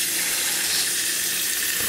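Steady running water from a tap filling a bath for a pet capuchin monkey, a continuous bright splashing rush with no voices.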